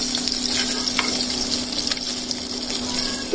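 Hilsa fish head rubbed with turmeric and salt frying in oil, giving a continuous close sizzle with occasional stirring scrapes, steady and fairly loud with no talk.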